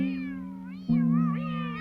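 A cartoon cat, the Cosmic Cat, lets out a steady tonal meow that breaks into a louder, wavering second meow, close and clear with no talk.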